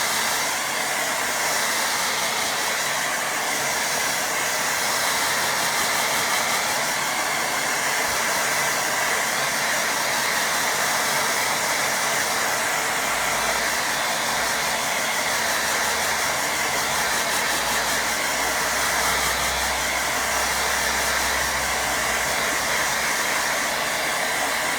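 Hair dryer blowing on a watercolour painting of a windmill, a steady loud whirring roar running unbroken from start to finish.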